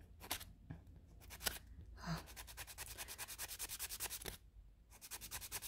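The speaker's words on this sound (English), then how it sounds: "So let's get my file. Okay, start filing." Close-up rhythmic rasping of a nail file across encapsulated acrylic nails, fast back-and-forth strokes in bursts with short pauses between, fairly quiet and with no talk.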